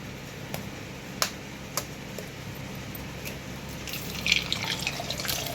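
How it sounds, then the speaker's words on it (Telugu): Egg cracked into hot oil with cinnamon, cloves and cardamom for quick egg rice: a few sharp taps, then a crackling sizzle that swells toward the end. Close by, with no talking. "ఎగ్ కొట్టి వేస్తున్నానండి"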